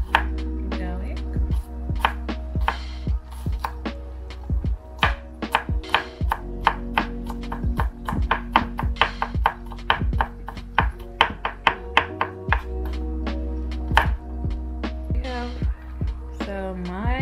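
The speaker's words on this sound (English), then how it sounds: "So my garlic is finely chopped." A knife chopping garlic finely on a cutting board, with rapid, crisp, close taps that keep a steady rhythm and pause briefly now and then, over a low steady hum.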